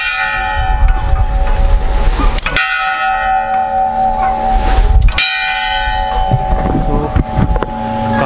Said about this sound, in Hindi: यहाँ पे आप देखिए कितनी बड़ी घंटी है, यहाँ पे वैसे बजानी पड़ेगी।